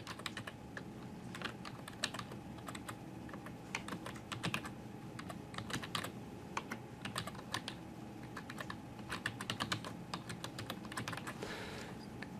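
Steady, continuous typing on a computer keyboard while entering sign-in credentials during a Windows 10 deployment, with rapid clustered keystrokes close up over light background hum and no talking.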